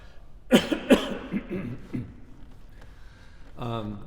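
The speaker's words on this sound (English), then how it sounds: "Sorry, I have to cough." Two sharp coughs sound close by, followed by a few softer throat noises. A brief voice comes in at the end.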